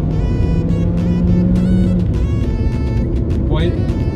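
Renault Captur TCe accelerating in town, its engine pulling steadily with rising tones, heard from inside the car under someone speaking French.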